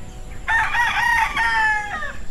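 A gamecock rooster at a game farm crows once, loud and near, a harmonic call lasting under two seconds with a brief break in the middle, over a quiet background.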